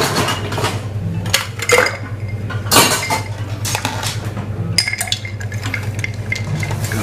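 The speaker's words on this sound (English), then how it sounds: "And stir." A Grand Marnier and cognac cocktail with a splash of water is stirred in a glass, giving steady close metallic clinks and scrapes of a spoon against glass, with no talking.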